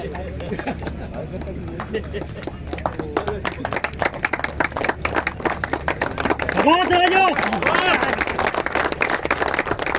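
An audience claps loudly at a prize-giving ceremony for a night cricket tournament, a crisp, continuous patter of many hands that swells toward the end, while a voice and a brief shout come over it.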